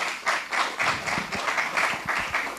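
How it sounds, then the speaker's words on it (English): Audience applause at a film promotion event, a dense run of clapping pulsing in waves at steady volume for a few seconds, with no voices over it. "A big round of applause there for what we saw."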